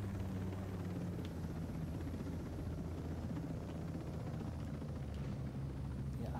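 Helicopter in Ghost Recon Breakpoint: a steady, loud rotor and engine rumble droning continuously throughout, close and unbroken, with no talking over it.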